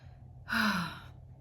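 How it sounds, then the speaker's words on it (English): A single deep breath, heard as one long, audible sigh-like exhale lasting about half a second, close and clear against a quiet background. "Let's just take a deep breath"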